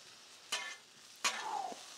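Garlic dropped onto a Blackstone griddle beside asparagus gives two quick bursts of sizzling and scraping, the second longer and trailing off, close and fairly quiet with no talk.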